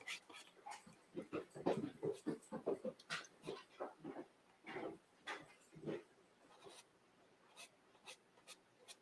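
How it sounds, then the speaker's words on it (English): Dogs whimpering, yipping and shuffling around nearby indoors, a run of soft whines and scrabbling movement noises that rise and fall in bursts. "Dogs are finding their way down. If you hear anything, that's them."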